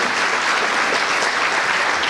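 Steady, dense applause from an audience welcoming a retired district mufti onto the stage at a surprise gift ceremony, continuous and even throughout without a clear break.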